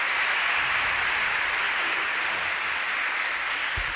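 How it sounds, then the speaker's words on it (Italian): An audience gives sustained, dense applause to welcome a priest, a continuous wash of many clapping hands held at an even, fairly loud level throughout, with no talk. "con un grande applauso accogliamo padre Lorenzo Carloni."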